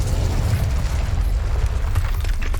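An Incendio fire spell erupts in Hogwarts Legacy, a loud, sustained roaring blast with a heavy low rumble that holds steady throughout, crackling bursts layered on top.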